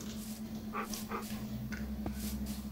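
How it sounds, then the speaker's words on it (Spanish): A wolf in the Minecraft video game gives short whimpering yips and soft barks, game sounds over a steady background drone, with no talking. "Perro."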